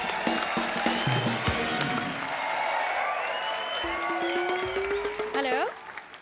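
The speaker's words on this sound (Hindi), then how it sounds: "एक बार मिस्टर मनोज वाजपेयी के लिए जोरदार तालियां हो जाए।" Audience applause at a comedy show, a steady wash of clapping lasting several seconds under music and other sounds before it tapers off.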